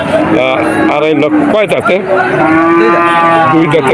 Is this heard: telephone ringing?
no